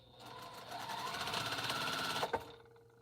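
A sewing machine stitches steadily while quilting an African map quilt, a fast even whirr running for about two seconds before it stops abruptly, with a brief clunk at the end.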